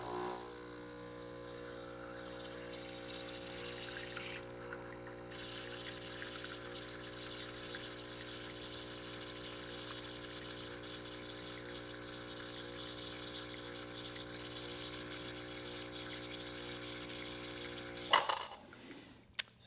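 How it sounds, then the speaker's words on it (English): Espresso machine pump pushing water through during pre-infusion, a steady close humming drone with a constant tonal buzz that runs for about eighteen seconds, then cuts off with a few clicks and clunks. "That's the pre-infusion step kicking in."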